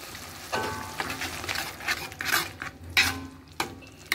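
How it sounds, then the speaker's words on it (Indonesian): Sweet and sour sauce for fried catfish being stirred in a pan, with a steady sizzling bubble under repeated scraping and clinking of a utensil against the metal, close and moderately loud, without speech. "Terus kita aduk."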